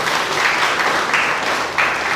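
An audience in a hall bursts into loud, sustained applause, dense clapping rolling on without pause and swelling slightly in waves, with no voices.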